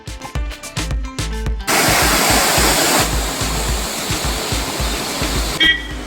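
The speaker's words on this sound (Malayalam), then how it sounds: "ഇതാണ് മൂന്നാറിൻ്റെ സ്റ്റാർട്ടിങ്ങിലെ ഫസ്റ്റ് വെള്ളച്ചാട്ടം, ചിയപ്പാറ വെള്ളച്ചാട്ടം." Chiyappara waterfall at the start of the Munnar route in Kerala roars as a steady, loud broadband rush of falling water, heard close and continuous after a brief burst of other noise at the start.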